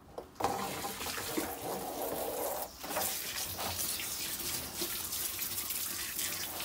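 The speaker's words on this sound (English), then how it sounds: "Right, just give these a bit of a wash." Freshly harvested vegetables rinsed under a running tap, a steady splashing stream that starts abruptly, briefly stops and resumes, with water drumming on produce and a sink close by.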